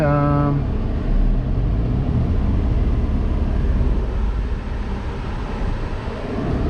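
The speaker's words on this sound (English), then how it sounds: "I can feel the compressor's actually on because the RPM's dropped." Nissan Xterra engine idling steadily with a newly installed A/C compressor engaged, a continuous low rumble with broadband noise that starts with a brief tonal hum and holds at a constant loud level throughout.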